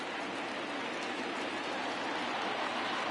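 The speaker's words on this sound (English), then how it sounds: "I don't know how much more rain this field can take" Steady, dense hiss of heavy rain pours down on a baseball field during a Mets at Braves game, continuous and even throughout.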